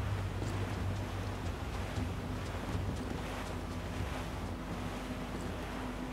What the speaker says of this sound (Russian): Чувствую ветер в волосах.